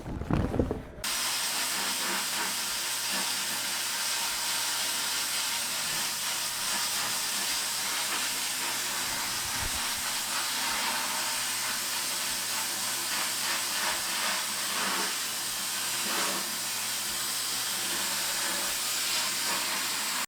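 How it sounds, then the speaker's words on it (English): Blast gun spraying media onto a cast aluminum intake manifold during engine restoration, a steady loud continuous hiss that holds unbroken for the whole stretch after a brief quiet start, with no talking. "especially whenever you're blasting with cast aluminum, make sure that you're not holding the blast gun too close to the part."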